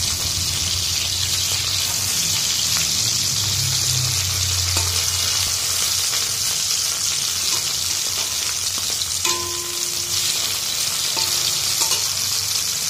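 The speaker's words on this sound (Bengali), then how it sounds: "মাছগুলো সব ভেজে নিচ্ছি" Bata fish frying in a pan with oil, a steady dense sizzle running throughout, with faint clinks and a brief splash of water toward the end.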